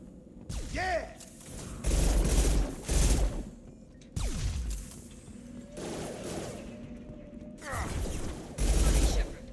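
Gunfire in the video game Mass Effect 2, a series of paced, punchy shots in separate bursts with mechanical weapon clatter between them, loud and close over game ambience.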